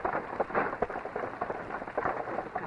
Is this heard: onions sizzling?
no